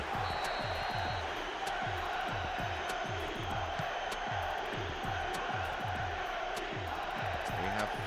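Football stadium crowd at a Premier League match between Manchester United and Arsenal, a steady dense roar of distant voices with rhythmic chanting pulses throughout, sustained and swelling after a near-miss header.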